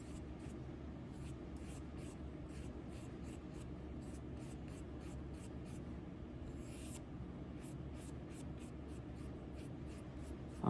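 A brush lays a thick coat of paint onto a surface, giving a steady, close scratchy swishing made of repeated short strokes that carries on evenly and without pause, with no voices heard.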